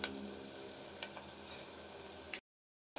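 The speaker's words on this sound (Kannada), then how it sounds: "ಇದರೊಳಗೆ ಈರುಳ್ಳಿ ಟೊಮೊಟೊ ಎಲ್ಲ ಫ್ರೈ ಆಗಿಬಿಟ್ಟಿದೆ" Onion and tomato frying in a pot for chicken biryani make a soft, steady sizzle with occasional ticks and stirring clicks, then cut out into brief silence near the end.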